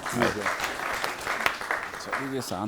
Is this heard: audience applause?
yes